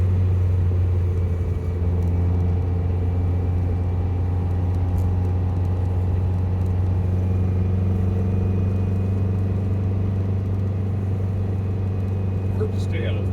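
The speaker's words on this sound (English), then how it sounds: "Car seems to be running pretty good." A Volkswagen Beetle's engine idles and runs steadily, a continuous low hum with a faint mechanical clatter, while a person talks over it now and then.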